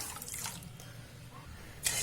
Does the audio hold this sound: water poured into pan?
yes